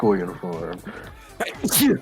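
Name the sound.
sneeze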